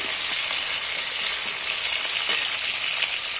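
Evening snacks sizzling in a shallow layer of oil, a steady, close hiss of frying that carries on unbroken with a few faint pops, no voices.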